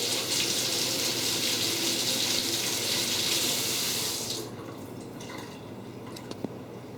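Water runs steadily from a tap as sticky hands are washed under it, a close, loud rush that stops partway through, leaving faint drips and small knocks in a quiet room.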